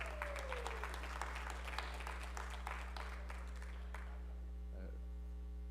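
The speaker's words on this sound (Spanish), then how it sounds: "Den un aplauso al Señor por la hermana Ana." A church congregation applauds for a woman singer during a Spanish-language worship service: steady, dense clapping lasting about four seconds over a constant mains hum, then fading out, with a few faint sounds after.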